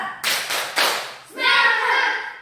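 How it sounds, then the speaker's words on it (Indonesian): A group of students claps hands together in a classroom, producing two sharp, loud claps in quick succession before a voice speaks. "kita tepuk tangan sama-sama dulu"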